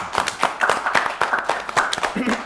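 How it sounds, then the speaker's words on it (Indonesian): A studio audience gives the cast of a film a brief round of clapping, with distinct, fairly even claps repeating at a moderate pace over a light background murmur. "Kasih tepuk tangan dulu."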